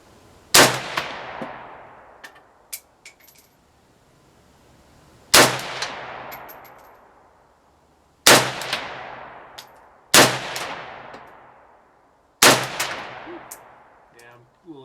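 A Romanian RPK MD64 light machine gun fires single shots at a target outdoors, five loud sharp reports spaced a few seconds apart, each followed by a ringing decay and faint metallic clinks.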